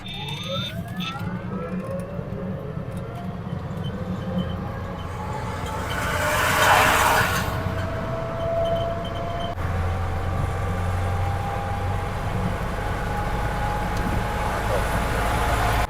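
Montra electric auto rickshaw accelerating in power mode, a steady rising electric whine with road and wind rumble building throughout, loud and continuous with a brief noisy burst midway.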